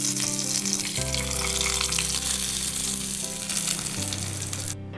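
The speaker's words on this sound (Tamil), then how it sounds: "கடுகு பொரிஞ்சோடனே கருவேப்பிலை போட்டு தாளித்து சட்னியில் ஊற்றிக்கலாம்." Mustard seeds and curry leaves sizzle and crackle in hot oil for a chutney tempering, a loud, steady frying hiss heard close up throughout, with music underneath.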